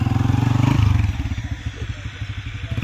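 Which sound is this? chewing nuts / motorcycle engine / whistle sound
motorcycle engine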